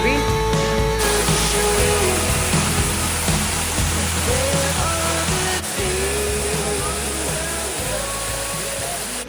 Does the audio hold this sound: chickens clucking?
no